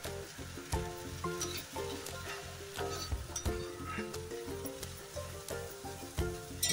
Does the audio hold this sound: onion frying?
yes